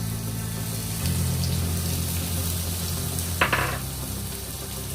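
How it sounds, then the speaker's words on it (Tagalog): Onions and garlic sauté in a hot pan with a constant, even sizzle, steady from start to end, broken by one brief clink or scrape partway through. "Gigisahin lang natin yung sibuyas at bawang and then yung mushroom"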